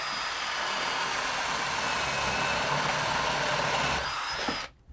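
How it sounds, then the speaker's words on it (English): A power drill whirs steadily at close range, boring up through the underside of a wooden shelf for several seconds before winding down and stopping abruptly. "the solution is to drill a hole in the shelf"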